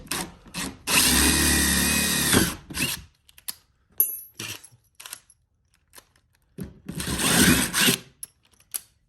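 Power drill boring through sheetrock into a metal stud for a TV mount, two loud whining bursts of a couple of seconds each, separated by quieter handling clicks and a short gap, close up with no talk.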